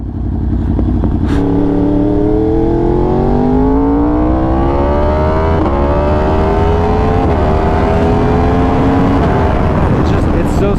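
A 2020+ Yamaha R1 sport motorcycle with a freshly flashed ECU revs loudly and continuously up close, the engine note climbing in steady pitch sweeps through several gear changes at speed.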